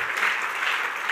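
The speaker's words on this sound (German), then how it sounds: "Geben wir ihnen einen lauten Applaus aus dem Kalkofen raus." Audience at a church service applauds in a steady, dense burst of clapping that holds at an even level for about a second, with no voices on top.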